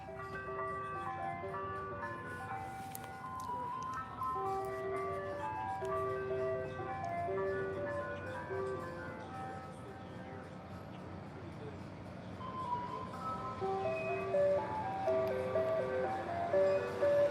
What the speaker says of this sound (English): I thought someone was just blasting ice cream truck music. But nope, it's an actual ice cream truck.